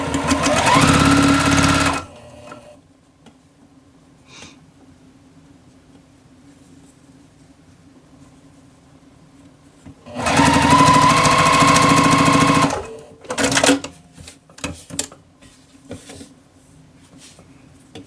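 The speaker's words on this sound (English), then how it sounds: "So just continue to sew these together." A sewing machine stitches pieces of a checkered improv quilt block together in two loud, steady bursts, one at the start and one near the middle, with quiet pauses and small handling sounds between them.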